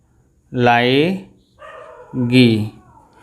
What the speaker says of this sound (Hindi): सॉरी आवाज़ आ रही है कुत्तों की